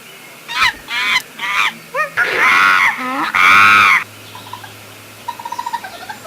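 Loud harsh honking mating calls from a young female bird in bursts, some rising and falling, followed by softer chirps near the end.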